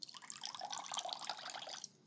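A small splashing pour of water or milk trickles into beaten eggs in a bowl, soft and close, lasting about two seconds with no talk over it.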